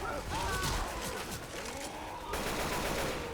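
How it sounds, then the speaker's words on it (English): Rapid gunfire in Left 4 Dead 2 aimed at the Tank, a dense continuous barrage of shots layered with game noise and a voice talking over it. "I get you gotta shoot the damn tank"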